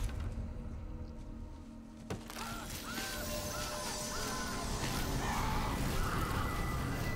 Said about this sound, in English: Oh, he's just a bird again.